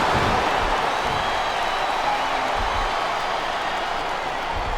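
Arena crowd noise in the wrestling video game WWE SmackDown vs Raw 2007: a dense, constant roar of a chanting and cheering audience, steady and loud with no break.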